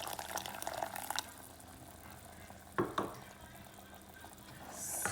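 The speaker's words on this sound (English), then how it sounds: "I'm gonna add the 1 cup of water." A cup of water is poured into a pan of sizzling butter sauce for a seafood boil, giving a brief splash and hiss followed by quiet frying and a couple of sharp clinks, faint and close.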